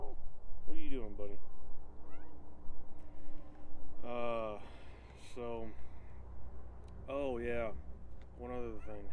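A cat on a homestead gives a series of clear, close meows at irregular intervals, several rising and falling calls standing out over a low steady background hum.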